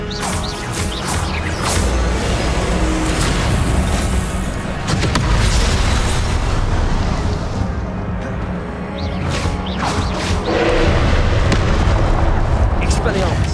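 Repeated Confringo fire spells from Hogwarts Legacy burst in loud booming blasts throughout, dense and continuous, layered with other spell effects and a voice speaking over the action.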